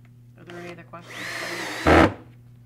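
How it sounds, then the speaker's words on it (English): Brief talking gives way to a power drill whirring for about a second, ending in a louder burst as it bites in. "This drill has a good bit."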